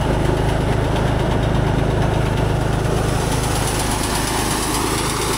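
A rice threshing machine's engine runs at a harvest, giving a loud, steady mechanical drone with a constant buzz that holds unbroken throughout, with no voices.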